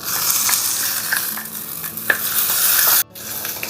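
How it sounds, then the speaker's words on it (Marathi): Oil sizzles steadily as broad beans fry in a pan on a small stove, a close, continuous hiss with a few stirring scrapes and a brief break near the end. "बघू शकता की कशी तलतर आवाज येते"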